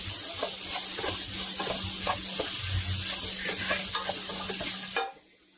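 Salt, pepper and turmeric powder being mixed together for an ivy gourd fry, a steady rhythmic scraping and stirring up close that stops abruptly near the end, with no talking.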